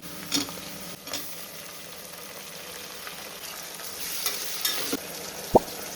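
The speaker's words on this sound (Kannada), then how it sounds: "ಎರಡು ಈಗ ಬಂದ್ಬಿಟ್ಟು ಟೊಮೆಟೊ ಸೇರಿಸ್ಕೊಳ್ತಾ ಇದ್ದೀನಿ" Tomatoes go into a hot pan while avarekai khichdi cooks, giving a soft, steady sizzle with light stirring scrapes and a few small clinks, close and fairly quiet.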